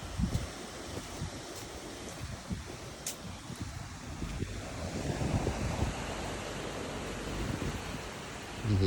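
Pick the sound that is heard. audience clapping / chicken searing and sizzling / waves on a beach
waves on a beach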